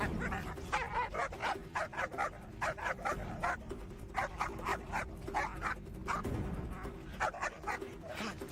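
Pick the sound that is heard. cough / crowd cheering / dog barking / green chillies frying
dog barking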